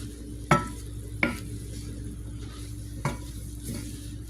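Collard greens cooking down in a pan, seasoned with garlic powder and black pepper, give a low steady sizzle. Three sharp utensil knocks and scrapes against the pan sound close by, with no talking.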